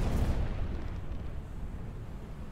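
Enemy ship cannons fire in the open-world pirate game Buccaneers, one booming blast up front that rumbles and decays into a long low roar with no talk.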